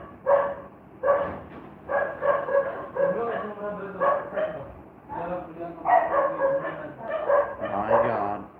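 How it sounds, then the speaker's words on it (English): Several dogs bark and yip excitedly at a house, loud, close bursts repeating in quick irregular succession, with some whining mixed in. "The dogs are going nuts."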